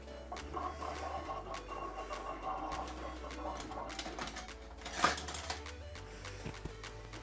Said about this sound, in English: I'm going to very quickly go through and do a test cut